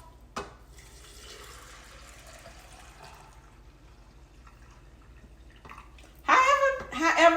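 Broth or water pours into jars for canning beans, a quiet liquid trickle early on followed by a louder, gurgling pour near the end, in a home kitchen.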